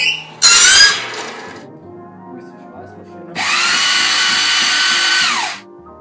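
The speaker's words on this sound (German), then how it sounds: "Bohr- und Schleifstation." Power drilling and grinding station in a company workshop: a short high whining burst, a pause with low mechanical hum, then a longer steady loud grinding run that winds down.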